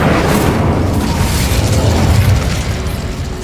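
Incendio fire spell cast in the video game Hogwarts Legacy, a loud whooshing burst of flame with a booming low rumble that fades over a few seconds.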